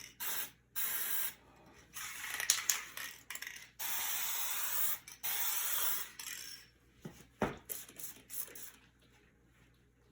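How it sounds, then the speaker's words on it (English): Alcohol spritzed from a spray bottle onto a fluid art pour, heard as a series of soft, hissing bursts of varying length, close and fairly quiet, with light rubbing and handling noises in between. "Get a little spray off to the side here."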